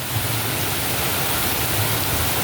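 Heavy tropical downpour drenching the surroundings, a loud, steady broadband roar of rain that holds constant throughout with no pauses or voices.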